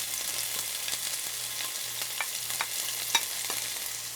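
Garlic and chili are briefly stir-fried in hot cooking oil in a pan, giving a continuous bright sizzle with light, scattered scraping ticks from stirring, quiet and close.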